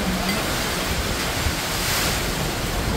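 Strong typhoon wind and rain roar steadily during Typhoon Uwan, a dense, unbroken wash of noise with gusts buffeting the microphone and no voices.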